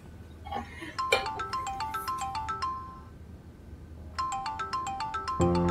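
A melodic phone ringtone plays a quick run of bright beeping notes, pauses, then starts again, fairly quiet against a soft background hum.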